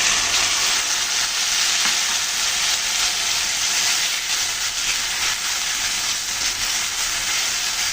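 Spice paste added to fried potatoes in a hot pan for aloo dum gives a loud, steady sizzle and hiss that runs unbroken from start to finish, with faint stirring.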